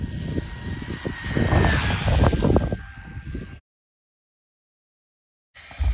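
Small RC plane on a 4S 1,500 mAh LiPo pack at full throttle, a loud droning motor and propeller roar with a steady whine for about three and a half seconds, then silence before the roar briefly returns at the end.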